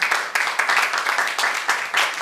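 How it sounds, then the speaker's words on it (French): Applause from an audience at a French-language cultural event, a steady wash of hand claps with rhythmic surges, fairly close and alone without voices. "Applaudissements pour ce projet."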